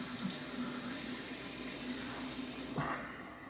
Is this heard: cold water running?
yes